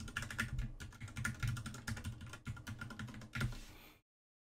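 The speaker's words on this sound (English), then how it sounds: "So we're just going to type in our password." A computer keyboard clatters with a rapid run of close key presses as a password is entered, a steady typing burst lasting about four seconds and then stopping.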